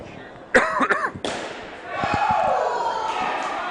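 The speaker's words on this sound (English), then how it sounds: "Excuse me for my cough." A few sharp coughs in quick succession, close and fairly loud, followed by low background rustling and noise.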